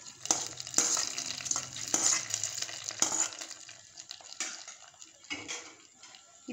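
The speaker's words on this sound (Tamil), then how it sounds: "நம்ம தாளிச்சு வச்சதை இதல சேர்த்துறலாம்" Onion sambar takes an added tempering: a loud sizzle and crackle rise as the hot seasoning hits, with several scraping stirs of a spoon against the pot, the frying fading toward the end.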